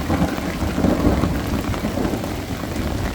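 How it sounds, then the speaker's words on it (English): A severe thunderstorm batters a backpacking camp in Indiana: heavy rain pours steadily while low thunder rumbles underneath, loud and close throughout, with no talking. "Gotta love a thunderstorm, guys."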